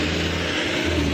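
An Adhi Putra luxury suites-class bus on the Morowali route revs its engine, a loud, close, continuous mid-to-low growl with broad road noise and no talking.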